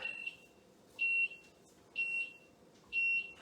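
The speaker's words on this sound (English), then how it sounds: "that is just the fire alarm going off." A kitchen fire alarm sounds four evenly spaced high-pitched beeps, about one per second, alone over a quiet room hum.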